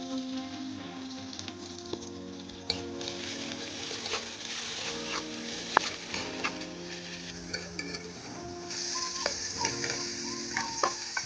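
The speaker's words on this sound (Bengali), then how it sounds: "মাগুর মাছের ডিম ভুনা করবো" Catfish roe fries with a constant sizzle and crackle in a pan, broken by repeated clinks and scrapes of a spoon stirring against the metal throughout.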